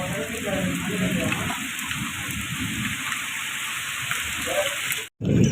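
Heavy rain falls outside with a dense, steady hiss and patter that lasts throughout and ends in a brief cut near the end.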